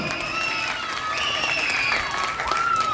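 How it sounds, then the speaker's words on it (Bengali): A crowd at a gathering claps and cheers loudly all together, with dense sustained applause mixed with voices and shouts that carry through the whole moment. "জোরে একটা হাততালি দাও"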